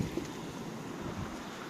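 Ocean waves wash over coastal tide pools in a steady, soft rush of surf mixed with wind noise, with no voices.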